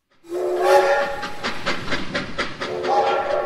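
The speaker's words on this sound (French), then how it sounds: "Lors de ses sorties, Abdelkader est surpris par le passage d'un train." A steam train passes close by, its whistle sounding in a long wavering blast over the rhythmic chuffing and hiss of the engine, loud and near throughout.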